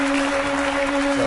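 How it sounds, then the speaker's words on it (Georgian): Audience applause at a televised comedy show, a steady dense wash of clapping that runs evenly throughout, with a faint constant hum beneath and no voices. "აპლოდისმენტები"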